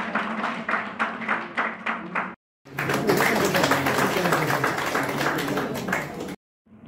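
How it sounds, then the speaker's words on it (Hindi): An audience at a book release applauds, starting with rhythmic, evenly spaced claps that give way to a sustained burst of dense, loud clapping before a brief silence. "चलिए ताली बजाइए।"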